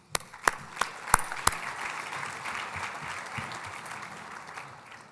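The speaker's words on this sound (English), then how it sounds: "Please join me in giving them a round of applause." Audience applause at a business innovation event, opening with a few sharp, loud claps and then settling into a steady wash of clapping that fades gradually toward the end.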